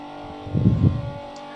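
Drift car engine in CarX Drift Racing played on a G920 wheel, a short throaty rev swelling up and falling back within about a second over a steady engine drone.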